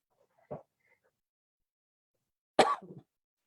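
A short, sharp cough, preceded by a faint brief throat sound, in an otherwise quiet setting during a staff town hall meeting.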